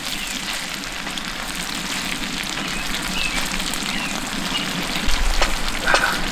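Steady dense sizzle of vegetables and meat frying on a camp griddle for bourbon cheesesteaks outdoors, a continuous hiss with a few louder crackles and a low thump near the end.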